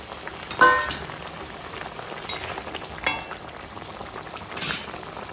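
Fried pabda fish slipped into boiling mustard gravy, a low continuous sizzle and bubble with a few sharper splashes and clatters as pieces go in, close and moderately loud.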